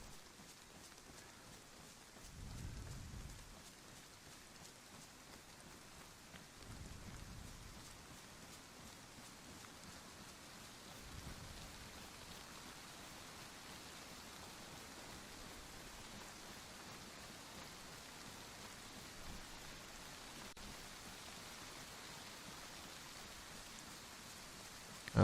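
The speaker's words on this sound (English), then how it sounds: "As the rain comes down." Steady rain falls in the DayZ video game, a soft continuous hiss with a few low rumbling swells, heard alone at a moderate, even level throughout.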